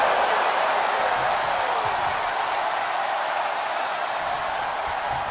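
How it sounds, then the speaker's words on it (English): An arena crowd in the WWE 2K22 wrestling video game at an Elimination Chamber match, a dense, loud, continuous roar of cheering and applause with no breaks. "The roar of this crowd has been building,"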